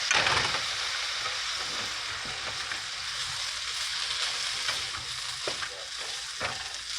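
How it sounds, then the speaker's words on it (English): Vegan beef stir fry with noodles sizzling in a pan, a steady loud frying hiss with occasional stirring clatters and no talking. "So I've been sauteing this now for about 5 minutes, maybe 3 to 5."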